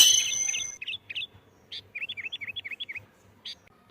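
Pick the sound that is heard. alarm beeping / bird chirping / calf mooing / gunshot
bird chirping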